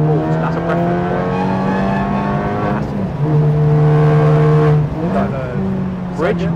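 A real race car's engine drones loudly through a turn on a circuit during a first-time driving lesson, its pitch holding then stepping and climbing as the throttle comes in, with an instructor's voice speaking over it.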